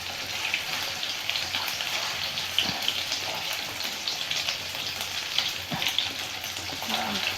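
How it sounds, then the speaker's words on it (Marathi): Banana chips frying in hot oil over a lowered gas flame, a steady dense sizzle and crackle with occasional louder pops of spattering oil, close and continuous throughout. "तेल उडतंय अंगावर. तरी गॅस कमी केला आहे."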